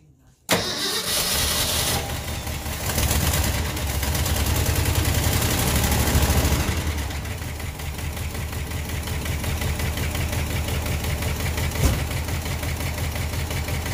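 A 1974 Ford F250 4x4 high-boy truck, left sitting for years and with a clogged distributor, cranks and fires up abruptly, then settles into a loud, steady, close rumbling idle with a slight knock and no talk.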